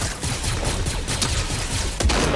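Rapid gunfire from the Fortnite video game crackles continuously in a dense, fairly loud burst, with a sharper shot standing out near the end.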